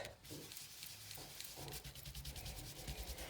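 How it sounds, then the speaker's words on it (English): Blending brush rubbing ink onto paper during card and treat box crafting, a steady close scratchy swishing of repeated back-and-forth strokes, fairly faint with no talking. "go ahead and get your ink on your blending brush, and just like anything else, go ahead and blend up."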